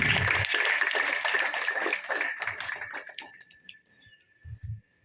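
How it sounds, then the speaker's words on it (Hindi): An audience at a school cultural programme and parent-teacher meeting applauds new teachers on stage, dense clapping that stays strong for about three seconds, then thins out and fades, with a few scattered claps near the end. "तो एक बार इनके लिए जोरदार तालियां।"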